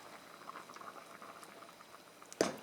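Spinach is added to a pot of simmering soup, giving soft, continuous bubbling and faint liquid patter, with a brief louder clatter near the end.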